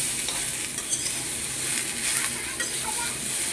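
Vegetables, yardlong beans alongside katla fish, fry in leftover fish oil in a wok, giving a steady, loud, continuous sizzle that holds unbroken throughout with no voices.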